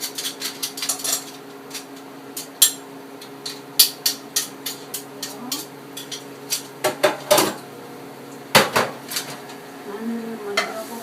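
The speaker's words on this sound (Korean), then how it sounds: "마늘을 찌어 넣어주시고요." Garlic being pounded for mapo tofu, a run of sharp, close knocks and clacks in irregular bursts, with brief pauses between clusters and a quiet background.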